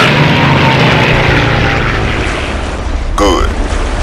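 A propeller airplane flying in the video game Iron Wings, a steady loud engine drone filling the whole stretch, with a brief whooshing sweep near the end.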